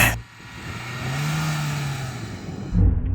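A 2022 Lada Niva engine rises steadily as the car pulls away from a standing start, a smooth building whir and roar, ending with a louder rumble near the close.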